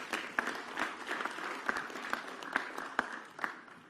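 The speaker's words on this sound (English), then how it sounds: "Please, a big round of applause for the WBC President." An audience at a boxing press conference applauds, a fairly faint, steady patter of clapping with a few sharper individual claps standing out.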